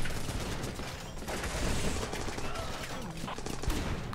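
Sustained tank turret gunfire in a large-scale battle video game, dense rapid bursts over heavy explosions and battlefield clatter, loud and continuous for the whole stretch with some faint speech mixed in.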